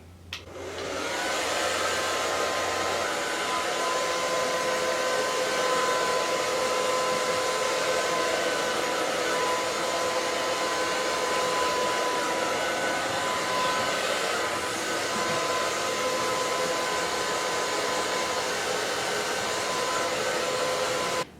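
A hair dryer on low heat blows steadily at the roots of 2C to 3A curly hair, a loud continuous whooshing hum heard up close that runs unbroken for the whole stretch with no talking.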